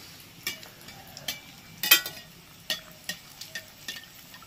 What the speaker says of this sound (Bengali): এটা পুরো একদম লালচে করে ভেজে নেওয়া হবে।